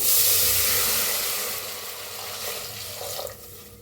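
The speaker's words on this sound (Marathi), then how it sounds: "आता ओतूया पाणी" Water poured into hot ghee with cumin and a bay leaf in a pressure cooker, a loud broadband hiss and sputter that is strongest at the start and gradually fades over a few seconds.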